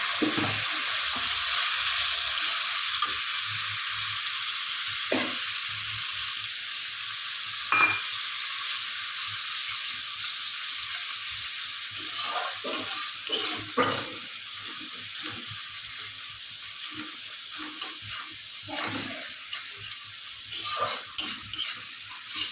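Onions frying in oil in a home kitchen pan give a steady close sizzle, with occasional stirring scrapes and clinks breaking through the hiss.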